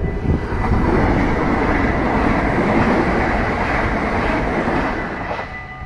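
A Dutch SNG (Sprinter Nieuwe Generatie) electric train passes close by at a station, making a loud, steady roar and rumble with rail noise that fades slightly at the end.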